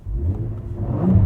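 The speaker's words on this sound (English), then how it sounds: "Here's what the exhaust sounds like in its loud mode." A 2024 Cadillac CT4-V Blackwing with a six-speed manual, exhaust set to its loud mode, gives a deep, close, continuous rumbling growl that swells slightly toward the end of a brief burst.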